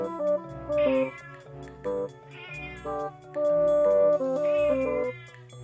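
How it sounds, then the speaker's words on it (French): A cat meows repeatedly in drawn-out, tonal cries, loud and close, with short pauses between calls and no talking. "tu vas louper le chat d'Élise."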